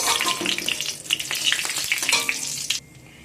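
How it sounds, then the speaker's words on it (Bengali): Bright crackling sizzle of cumin seeds frying in hot oil, with quick popping bursts, stopping suddenly near the end. "ফোড়নটাকে ভালো করে প্রথমে ভাজা করে নেব।"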